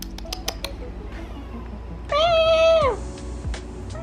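A house cat lets out one loud, drawn-out meow close by, standing out from a quiet room with faint clicks and background hum.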